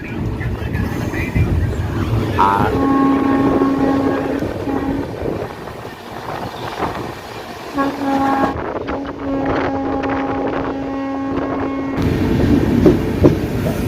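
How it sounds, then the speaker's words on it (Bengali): Inside a crowded general coach of the Darjeeling Mail running from Sealdah to NJP, the wheels rumble and clack steadily while the train's horn sounds in long sustained tones over background chatter. "দার্জিলিং মেল জেনারেল কোচে আমরা আছি"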